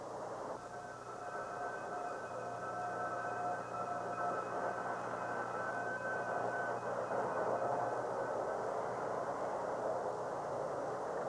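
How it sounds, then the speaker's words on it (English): A Union Pacific diesel train pulls alongside at Omaha's Union Station in 1952, a steady loud rumble with sustained horn-like tones holding throughout, with no voices. "another Union Pacific train pulls alongside, followed by another diesel from Chicago"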